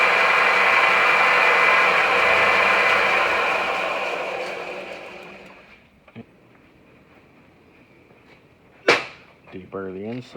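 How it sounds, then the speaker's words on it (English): Belt sander deburring freshly cut metal tubing, a loud steady abrasive whine that winds down after about five seconds, followed by quiet and a few sharp knocks and clatters. "Let's take it over and clean it up on the belt sander."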